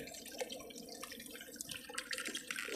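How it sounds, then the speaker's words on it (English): Water poured into a small bottle while setting up a backyard kiddie-pool pond, heard as soft, close trickling and dripping with no voices. "So I'm going to put some water in there"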